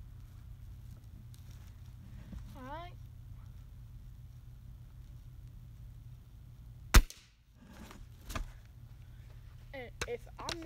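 A BB air gun fires at a target with a single sharp, close pop, followed by a couple of softer snaps. A voice talks briefly earlier, and faint background hum runs throughout.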